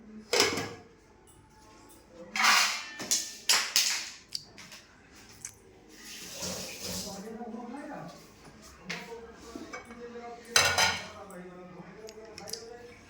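A spoon scoops cold cooked rice onto a plate, giving several clattering metal-on-dish knocks and scrapes in bursts, with a person speaking between them.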